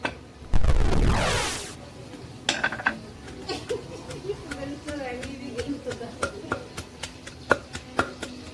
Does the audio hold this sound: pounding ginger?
yes